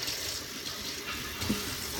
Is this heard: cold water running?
yes